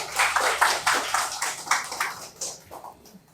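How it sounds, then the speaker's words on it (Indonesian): Applause from an audience at a national student discussion forum in Indonesia, a dense patter of clapping that gradually thins and fades over a few seconds. "Tepuk tangannya kawan-kawan."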